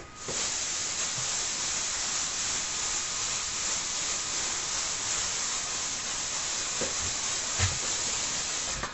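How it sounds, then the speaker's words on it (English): Deodorant sprays out of a can in one long continuous hiss, close and steady for several seconds with no talking. "Just make sure you keep putting on the deodorant"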